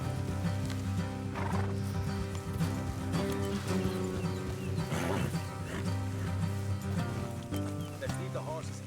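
Horses neigh and hooves clip-clop in Red Dead Redemption 2, with a steady music bed running underneath throughout and brief snorts and whinnies surfacing near the middle.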